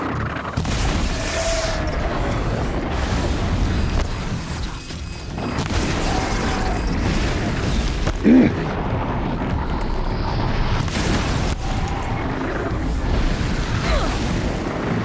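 Explosions from bombs going off in the video game Horizon Zero Dawn, a steady dense rumble of booms with one sharp burst partway through, loud and continuous throughout.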